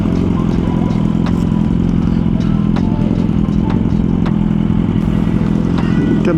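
A Suzuki GSX-R 1000 motorcycle riding along, its engine a steady loud low drone with a few faint clicks and clatters over the top, heard up close.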